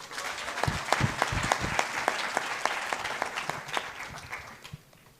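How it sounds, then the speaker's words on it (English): Audience at a leadership selection event claps for eight candidates, a quieter round of applause with distinct sharp individual claps in front, building briefly and then fading out. "let's give them a round of applause"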